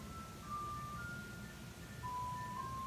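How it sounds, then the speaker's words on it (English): An ice cream truck outside plays a faint, thin chiming tune in short sustained notes, distant over a low background rumble, with no talking. "It's an ice cream man outside."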